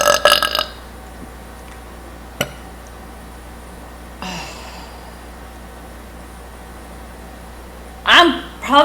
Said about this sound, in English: I think I have a burp in me.